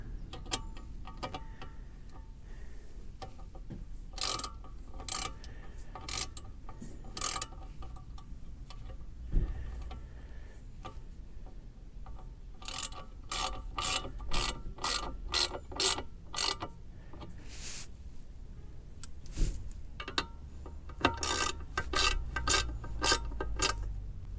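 A hand ratchet with a T25 Torx bit tightens screws on a Can-Am Ryker motorcycle, close bursts of rapid clicking repeated in several runs with short pauses between.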